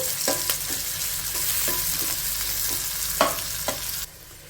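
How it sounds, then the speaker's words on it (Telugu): Onion pieces frying in a pan for pulao, a steady close sizzle broken by repeated scraping strokes as they are stirred. "ఇప్పుడు ఈ ఉల్లిపాయ ముక్కల్ని ఒక రెండు నిమిషాల పాటు ఫ్రై చేసేసుకోవాలి"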